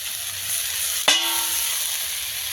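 Fried jackfruit flowers dropped into a hot pan of spices, a sudden sharp hiss at the moment they land, then a steady sizzle that carries on close by with no talking.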